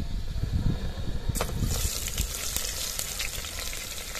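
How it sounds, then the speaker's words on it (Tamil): Chopped onion sautéing in a pan while paneer biryani is being made, a steady close sizzle joined by louder, brighter frying from about a third of the way in, with scraping stirs and no talk. "வெங்காயம் 3-4 நிமிஷம் எல்லாம் வெதும்பட்டும்"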